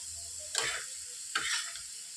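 Lentils frying with turmeric in a pan make a low, constant sizzle, broken by two distinct scraping strokes of a spoon being stirred.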